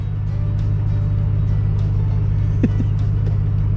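A 2021 RAM TRX pickup engine holds a steady, loud low rumble at full throttle, a continuous droning tone with a brief mechanical squeal near the end, close by with no talk.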